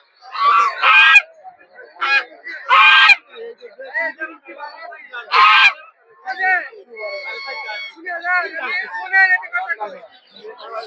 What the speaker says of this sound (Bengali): ওদিকে রাজা হাঁস দেখতে পাচ্ছেন, রাজা হাঁসগুলো 2000 টাকা থেকে শুরু করে